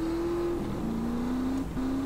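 Continuous car engine drone during a GTA V roleplay car chase, steady and loud with the pitch rising, dipping briefly around the gear changes and climbing again as the car accelerates.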